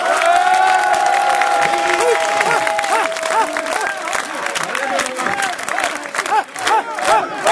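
A dense crowd at the 2011 Numabukuro Hikawa Shrine festival, held for the evening portable-shrine procession, cheers and applauds loudly and without a break, with shouting voices and chatter running through the whole stretch.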